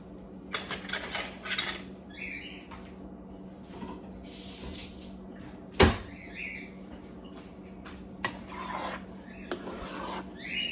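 A spoon stirs instant potatoes in a pot for homemade meatloaf sides, close scraping and clinks against the metal with a sharp knock midway and soft rubbing strokes between.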